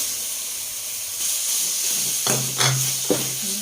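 Ground pork dropped into a hot pan already sautéing tomatoes for a patola and miswa dish, giving a steady, close sizzling hiss broken by a few short clunks and scrapes as the meat is added and stirred.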